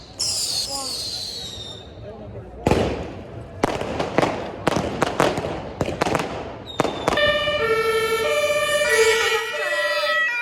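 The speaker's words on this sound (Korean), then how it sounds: "지금 소방차랑 경찰차도 계속 돌아다니고 있어요" Sirens from fire trucks and police cars wail through a city street during New Year's fireworks in Germany, with sharp firework bangs and crackles popping before the long, layered siren tones take over.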